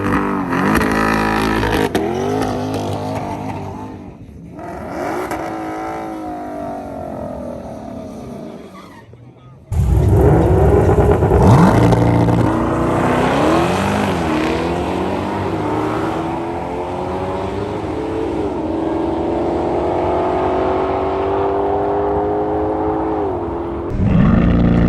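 A C8 Corvette drag races a Ford Mustang GT500 at the Bradenton drag strip, heard close from inside the car: loud engine roar and hard acceleration with shifting revs, a brief lull, then another surge of full-throttle roar.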